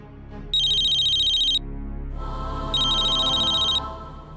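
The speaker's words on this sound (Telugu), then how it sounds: "నువ్వు ఒక పని చెయ్యి, మళ్ళీ ఒకసారి ప్రజ్ఞకు ఫోన్ చెయ్యి." A telephone rings twice during a call, each ring a loud, bright electronic trill of about a second with a pause between, over a low background hum and without talk.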